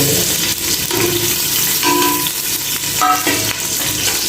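Finely chopped onion frying in hot oil, a dense close sizzle with a few utensil clinks and stirring scrapes over about four seconds, no voices.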